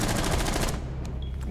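Automatic gunfire in Rainbow Six Siege comes as a rapid burst of close, loud shots for about half a second, then cuts to quieter room tone with a couple of faint clicks.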